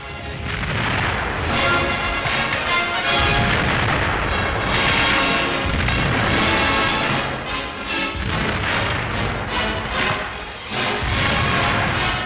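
Artillery explosions and enemy fire on the Eastern Front: a dense, continuous barrage of heavy booms and crashes, loud and rolling without pause.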